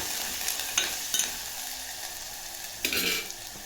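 Curry leaves and greens frying in hot oil, stirred in a pan for methi shepu bhaji, with steady crackling sizzle and a few bright utensil scrapes and clinks up close, no speech.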